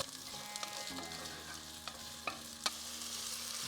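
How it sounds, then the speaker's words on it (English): Onions sizzle in a pan for chicken makhani, a soft steady frying hiss with a few light clicks and taps of stirring, close but quiet, no talking. "Just going to add in the onions. Just going to cook these for just 5 to 6 minutes"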